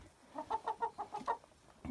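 A laying hen clucks in a quick rhythmic run of about eight close, soft clucks, then falls quiet.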